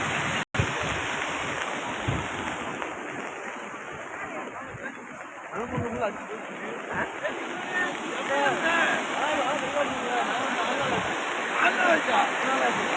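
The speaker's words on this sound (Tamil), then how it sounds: "ஒரு 3 அடி 4 அடி மேலேயே தண்ணி போய்கிட்டு இருக்கு" Floodwater rushes in a loud, continuous broadband roar over a place where government saplings were once sold, water running three to four feet deep over the ground in Vilathikulam; steady and close with no pauses.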